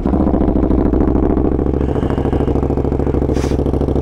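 A KTM Superduke 1290R motorcycle that sat unstarted for two weeks fires up on one click after an overnight charge, settling into a loud, close, rhythmic idle with a lumpy throbbing beat and a brief sharp clatter near the end.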